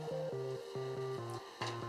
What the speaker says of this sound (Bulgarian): Касетите трябва да се движат в крайната лява и крайна дясна част на принтера